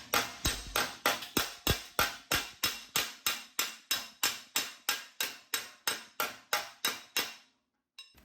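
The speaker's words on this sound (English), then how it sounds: "with the slapper, I should be able to bring that low spot up" A body slapper strikes a welded steel lower valance panel on a 1966 Triumph GT6 under rust repair, about twenty loud, evenly paced metallic smacks, each ringing briefly before the next, then stopping.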